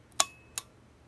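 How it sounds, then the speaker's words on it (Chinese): Two crisp mechanical clicks from the shutter of a 1958 Yashica 35 film camera firing, close and distinct, spaced about a third of a second apart in otherwise quiet surroundings. "看到这快门它正常的动作"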